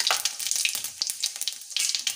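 Cumin seeds crackle and sizzle in hot oil in a kadhai while khichdi is prepared, with close, busy popping and spitting throughout.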